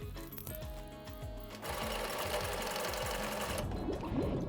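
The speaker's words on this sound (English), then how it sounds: "sewing it." A sewing machine stitches old denim jeans into a beach bag, its needle running in a fast, steady mechanical chatter, briefly slower and then continuous and loud, with no talking.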